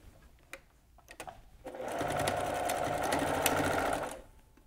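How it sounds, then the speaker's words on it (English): A sewing machine backstitching through linen and wool, a few scattered clicks and then a steady, close whirring run of about two and a half seconds. "Now we take it over to the sewing machine and you're gonna backstitch really well, several times"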